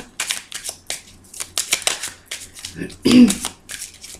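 Tarot cards are shuffled by hand before a reading, close crisp riffles and slaps in quick irregular bursts, with a voice speaking between them.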